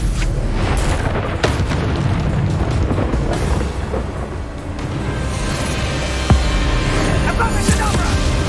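Spell explosions boom again and again in a Hogwarts Legacy duel, loud and dense, layered over constant game effects and action.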